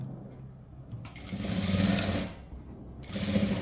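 A sewing machine stitches a blouse neckline in two close, whirring runs with a brief slowdown between them, alone with no talking.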